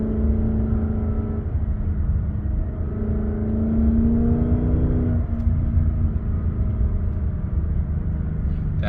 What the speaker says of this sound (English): I'm gonna downshift now.